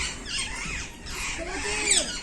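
Parrots squawk from a tree in a rural Indian yard, several harsh calls close together at moderate distance.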